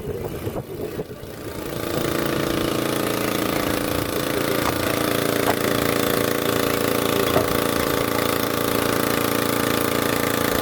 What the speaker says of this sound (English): You can also see the divers using an electric diaphragm pump.